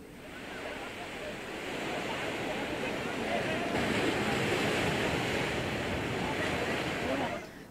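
Sea waves rolling onto Visakhapatnam beach in cool, breezy weather: a continuous, fairly loud surf wash that swells gradually and holds steady, with wind rumble on the microphone.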